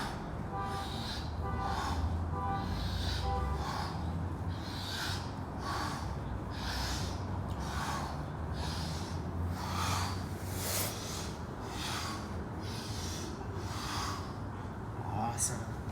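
Heavy, rhythmic breathing during a jiu jitsu guard retention warm-up, with steady inhales and exhales repeating in a regular cycle, close and prominent, against a constant low background hum.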